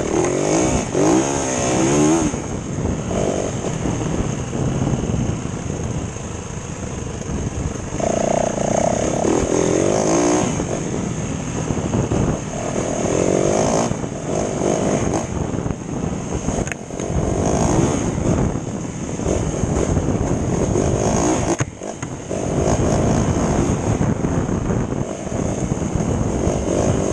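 A 2021 Yamaha WR450 dirt bike engine drones loud and steady throughout the ride, its pitch rising and falling with throttle changes and brief dips as gears shift.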